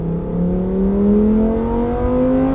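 A Lamborghini Huracan accelerates on the Varano race track, its engine note climbing steadily in pitch as it pulls through a gear, loud and close with no talk.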